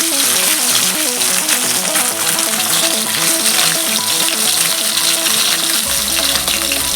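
Bhola fish frying in a hot wok after being turned to its other side, a loud, steady close-up sizzle of spitting oil that runs continuously with no speech.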